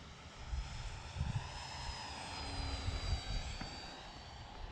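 A remote control airplane flies at dusk, its small motor a steady whining drone with a faint high tone that drifts in pitch, heard from a moderate distance over low rumbling wind noise.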